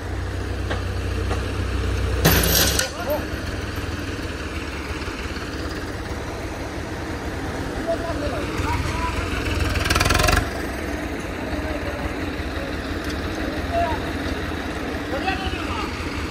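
A Swaraj 855 tractor engine idles in a steady low rumble throughout, with people talking over it and two brief loud bursts of noise interrupting partway.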